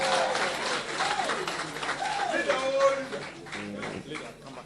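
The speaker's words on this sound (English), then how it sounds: "With a round of applause, let's welcome him." Crowd at a political event applauding to welcome a member of Parliament, a sustained wash of clapping with a voice speaking through it and cheering tones rising above.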